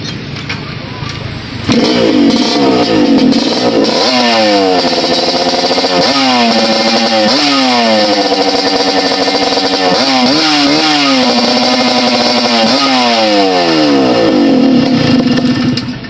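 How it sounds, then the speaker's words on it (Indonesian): A modified RX-King motorcycle engine starts and idles loudly close by, then revs up and down repeatedly in rising and falling bursts. "kali ini kita akan cek sound seperti apa suara dari motor ini ya"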